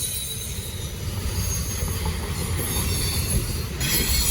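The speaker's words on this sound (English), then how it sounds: "It's good to catch this train anyway." A Norfolk Southern freight train rolls past on the Charlotte District, a steady low rumble of cars with high, sustained wheel squeals layered on top, loud and close.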